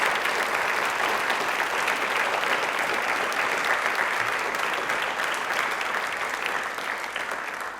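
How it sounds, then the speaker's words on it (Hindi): Studio audience at a Doordarshan Rajasthan quiz show claps loudly and steadily, the applause tapering slightly toward the end. "अपने लिए तालियां एक बार जोरदार पहले बजा दीजिए।"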